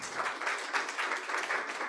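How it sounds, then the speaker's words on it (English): A short round of applause for panelists at a climate action event, with a crowd clapping in a fairly even, moderately loud patter that lasts just under two seconds. "Another round of applause to our panelists."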